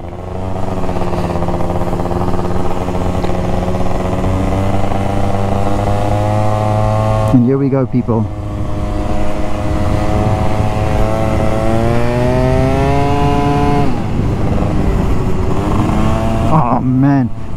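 A Malossi-tuned 125cc two-stroke Yamaha scooter engine revs loud and close with a buzzy, rising and falling whine, briefly dipping as the throttle shifts, while someone speaks over it.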